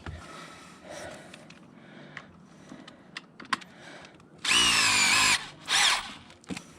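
A Bosch power drill whirs loudly in two short bursts near the end, preceded by scattered clicks and handling knocks close by.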